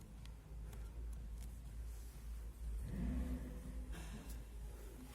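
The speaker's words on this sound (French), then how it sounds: "La voiture qui a démarré." A Lamborghini SUV in a Bordeaux dealership fires up at a distance, a faint rumble swelling into a brief rev before settling, with quiet showroom ambience around it and no talk.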